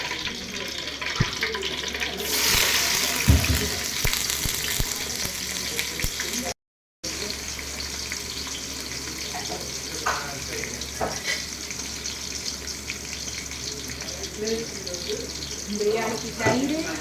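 Whole spices such as cloves frying in hot oil in a pot for seeraga samba chicken biryani, a steady low sizzle running throughout with a brief gap and occasional stirring clinks.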